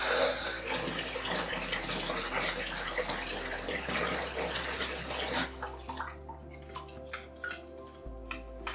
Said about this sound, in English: Just adding a little bit more cold water, get it to cool down a little bit faster